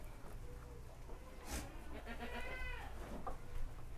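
Goats of the Jawa Randu, Saanen and Boer breeds bleat on a livestock farm, one or two quavering calls rising over a steady background murmur, with faint voices nearby.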